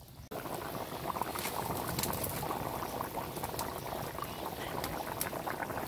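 An egg and potato curry boils in a pot after hot water is added, giving a steady, dense bubbling that carries on evenly from the first moment to the end, close by and without talk.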